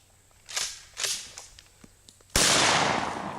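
Several sharp, cracking shotgun blasts ring out in an uneven sequence with short gaps, then a louder, sustained burst of noise follows abruptly, heard up close during an outdoor zombie-themed shooting session with 12-gauge shotguns.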